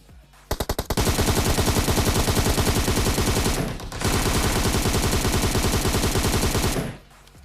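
Automatic gunfire in a solo-versus-squad shooter video game. Two long, rapid machine-gun bursts rattle loudly and continuously, separated by a brief pause, with no speech.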